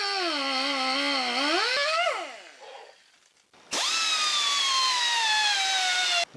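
A power cutting tool slices off a seized, broken bolt on a Suzuki GS850 motorcycle. It is a loud, high-pitched whine whose pitch wavers under load, drops away into a pause, then returns in a second steady burst before stopping abruptly.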